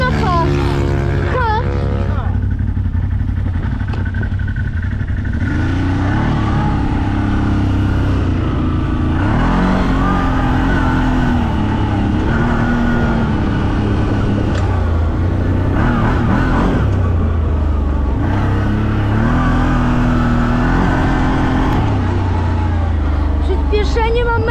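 A CF Moto 1000 utility vehicle accelerates off-road on a training ground, its engine droning loud and steady with rising and falling revs under continuous wind and road rumble.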